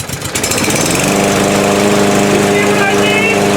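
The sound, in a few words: lawn mower engine starting and running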